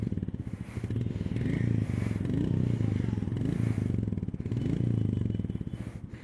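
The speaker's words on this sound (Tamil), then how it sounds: "எக்ஸாஸ்ட் தம்பும் அந்த கிராக்ஸ் அண்ட் பாப்ஸ் வந்து சூப்பராக இருக்குது" A Royal Enfield-style Goan Classic 350 motorcycle engine idling after start, with a steady low exhaust thump and rhythmic pulsing close by, swelling in gentle throttle blips throughout.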